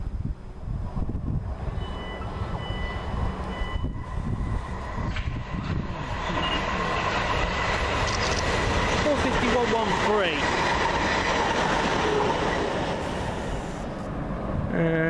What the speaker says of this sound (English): now I see the delayed Portsmouth Harbour train behind it going to Waterloo